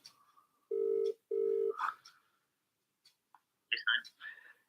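A phone being dialed before a call, with two long steady beeps and then a few short chirping tones, close and clear, and faint voices in between.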